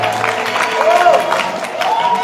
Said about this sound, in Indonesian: silakan tepuk tangan dulu buat